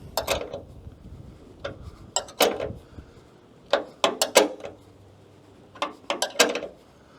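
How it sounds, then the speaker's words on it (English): Wrench tightening a bolt that holds a hood piston (gas strut) on a 4x4 Sprinter van: clusters of sharp metallic clicks and taps in short bursts separated by pauses, close and fairly loud. "So I got to go get a 13mm wrench. So stand by. Okay, then you're just going to tighten this up."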